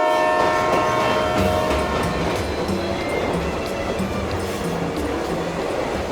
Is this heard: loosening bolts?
no